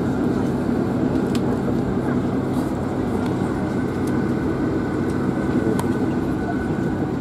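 A large airplane at an airport produces a steady, dense roar of engine and airflow noise that stays even and loud throughout, with faint scattered clicks.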